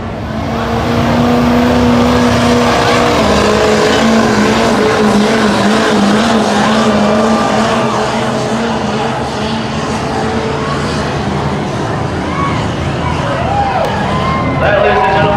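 Dirty Hooker, a diesel pulling tractor driven out of Harbor Beach, roars loud and steady down the track at a tractor pull, engine note shifting as it climbs, with an announcer talking over it.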